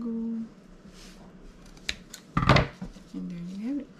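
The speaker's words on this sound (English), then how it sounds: "So I'll cut it on an angle just so it can be a little fancy." Scissors cut at an angle through ribbon to form a cakesickle bow, giving a few faint snips and one louder crisp cut near the end, close up with a quiet voice around it.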